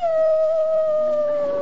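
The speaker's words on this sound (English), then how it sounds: "Oh, you are daft about that dog." A dog lets out a single long, steady howl, loud and close, with no other sound around it.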